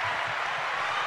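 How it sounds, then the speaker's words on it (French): Sustained audience applause, a steady wash of many hands clapping at a radio-style chronicle, heard alone for about a second. "Applaudissements. Nourri."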